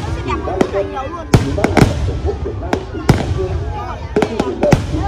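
New Year's Eve fireworks over Hai Phong for the 2020 Lunar New Year, sharp bangs and crackles bursting irregularly, some near and loud, over a steady crowd murmur with people talking throughout.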